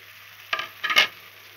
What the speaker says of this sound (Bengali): ভালো করে মিশিয়ে